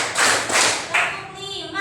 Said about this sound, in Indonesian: Kita tepuk dulu.